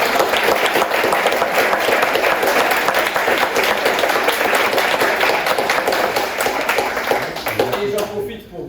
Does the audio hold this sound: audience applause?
yes